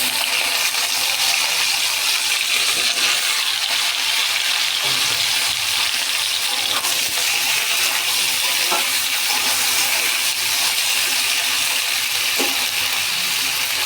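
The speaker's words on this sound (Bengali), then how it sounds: "একইভাবে ভিন্ডিগুলোও ভেজে নেব।" Okra fries in oil in a home kitchen, right after a batch of potatoes, with a steady close hiss and a few faint clinks, and no one speaking.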